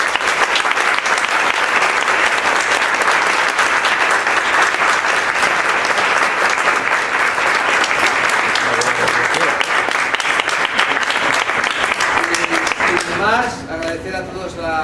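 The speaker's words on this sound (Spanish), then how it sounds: "Un aplauso" An audience at a talk on quantum physics, spirituality and success applauds in a dense, sustained round of clapping that holds steady for most of fifteen seconds before thinning out, with a voice starting to speak near the end.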